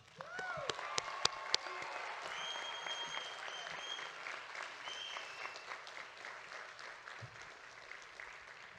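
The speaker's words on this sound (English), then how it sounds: "round of applause." Graduation ceremony audience for the 2022 College of Law class gives a long, sustained round of applause, with a few sharp claps standing out near the start and whistles or cheers mixed in, fading slightly toward the end.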